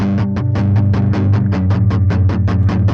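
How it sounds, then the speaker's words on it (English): Guitar, originally a Telecaster, played through the FabFilter Saturn distortion plugin, a loud pulsing tone chopped into rapid regular beats like a tremolo, steady rhythm throughout with no voices. "Let's play another guitar sound."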